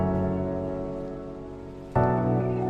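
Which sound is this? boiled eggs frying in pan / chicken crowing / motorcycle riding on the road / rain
rain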